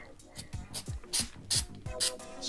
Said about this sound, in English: Spray a little bit of the stuff on.